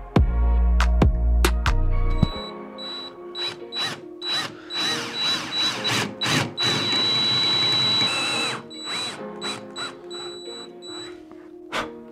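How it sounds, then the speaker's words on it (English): A power drill whirs in several short bursts, then runs steadily for a few seconds before trailing off into brief pulses, close and fairly loud, drilling a 3/16-inch hole for a copper rod in a flint knapping tool. "drill a 3/16 hole in the end of it"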